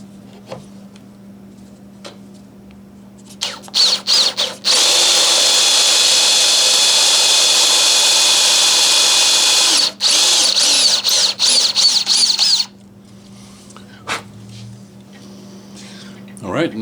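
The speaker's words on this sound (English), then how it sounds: "it'll be a little bit easier to drill these dowel holes here" A power drill whirs loudly and steadily for about eight seconds, drilling dowel holes in a wooden running board piece, with a few short bursts before and after and some quiet talk around it.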